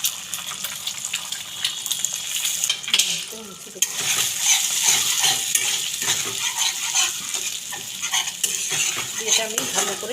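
Onion and chilli frying in a pan for egg bhurji, with sizzling under steady scraping and stirring of a utensil against the pan, plus occasional clinks of cookware.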